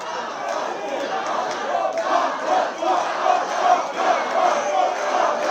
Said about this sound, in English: Listen to this crowd, it is electric in here.